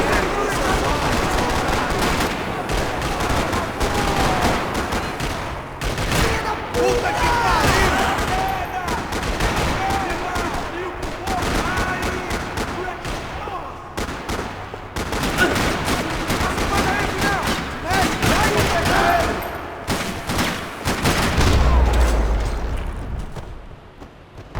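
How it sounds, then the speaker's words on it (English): Rapid bursts of automatic gunfire in the video game Max Payne 3 crackle almost continuously for over twenty seconds, dense and loud, with shouting voices and a deep thud near the end. "Another parking lot rattling with gunfire."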